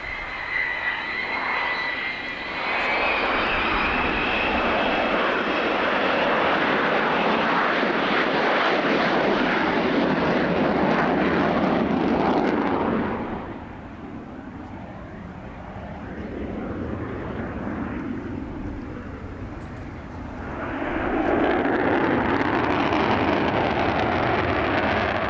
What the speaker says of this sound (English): The agility of this great aeroplane is tremendous.